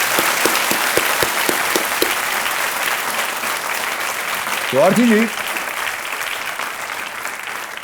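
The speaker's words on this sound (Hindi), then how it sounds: "तालियों के साथ एक बार इनका अभिनंदन करते हैं" Studio audience on the Kaun Banega Crorepati quiz show claps steadily, with a few sharp beats early on, while the host speaks briefly over the applause.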